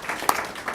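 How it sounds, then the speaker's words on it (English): Brief scattered hand claps from an audience at a city council meeting, a few distinct sharp claps spread over a moment, moderately near, with no talking. "Molly, a shout out and a hand clap."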